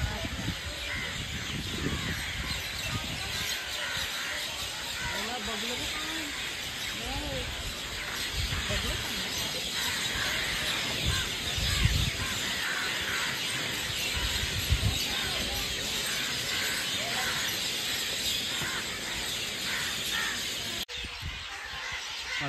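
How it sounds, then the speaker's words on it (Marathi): Birds, including cawing crows, call outdoors along the decorated path to a temple entrance beside the sea and a creek: scattered chirps and caws rise over a steady broad background hiss of wind and surroundings. "पक्ष्यांचा आवाज बघा येत असेल तर तुम्हाला."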